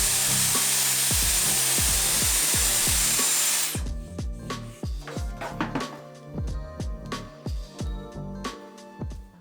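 A Dyson Airwrap blows a loud, steady rush of air over hair for about four seconds, then cuts off, leaving scattered taps and clicks.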